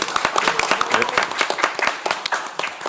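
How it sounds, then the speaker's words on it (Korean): Audience at an academic conference on the 70th anniversary of the Korean armistice applauding a session moderator, distinct sharp claps from a modest crowd, close and moderately loud, with no speech over them. "큰 존경의 박수 부탁드립니다"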